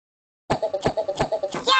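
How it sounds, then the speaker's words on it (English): Squawks from Pierre the parrot in the Talking Pierre video game: a burst of rapid, rhythmic clucking squawks after a moment of silence, loud and close, ending in a higher screech. "I'm a noisy parrot."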